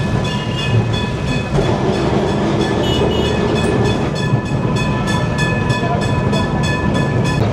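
Aboard a slow-moving Kolkata tram, a steady loud rumble and clatter of wheels on rails continues unbroken, with faint metallic ringing tones layered over it.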